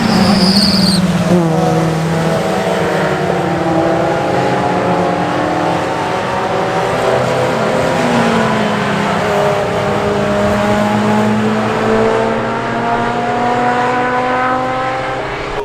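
Loud, continuous roar of classic V8 race cars on track at Oulton Park, with rising and falling revs as cars pass and accelerate, filling the whole clip.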